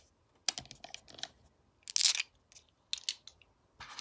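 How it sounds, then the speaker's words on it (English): Dice rattling and clattering in bursts for a tabletop baseball board game, several short sharp clicks and one louder clatter near the middle, close and with no talk. "Let's roll some dice."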